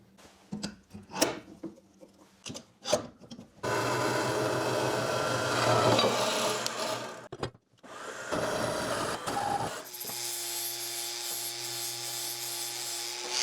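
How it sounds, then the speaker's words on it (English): A metal bar clamped in a power saw being cut, a loud sustained grinding whine after a few clamping knocks, then a pause and a second steady high-pitched cutting run. "I have the first bar clamped in the saw and the blade aligned with my mark."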